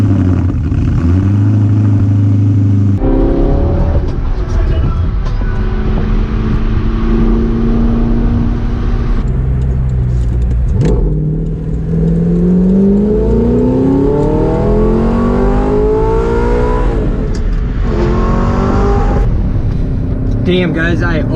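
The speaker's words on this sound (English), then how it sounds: "I'm going to take the R8 out and go for a rip." An Audi R8 accelerates on a Sunday drive, its engine note climbing through several gear changes with rising, sweeping pitch, loud and close inside the car, with someone talking over it at times.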